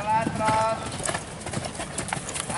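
Horse hooves clip-clop steadily during a riding lesson at an equestrian centre, close and rhythmic, while an instructor talks over them giving directions.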